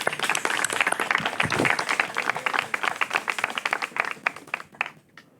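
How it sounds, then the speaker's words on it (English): An audience applauds for Sarmad Salibi in a steady patter of many hands, moderately loud, tapering off toward the end. "Could we give a round of applause to this gentleman,"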